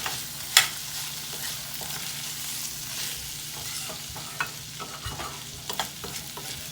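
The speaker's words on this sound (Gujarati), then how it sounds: "મરચું પણ નાખી દઈશું એક ચમચી જે પ્રમાણે આપણે તીખું જોઈએ એ પ્રમાણે અને સરસ મિક્સ કરીશું" Chili powder is stirred into a vegetable curry in a pan, with soft scraping strokes and a faint continuous sizzle, plus a few sharper clicks of the spoon against the pan.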